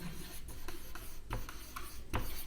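Notes for a linear programming maths problem are written by hand, close rustling pen-on-paper strokes in a quick uneven rhythm with a few sharper taps, and no talking.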